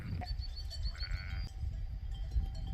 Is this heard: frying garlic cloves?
no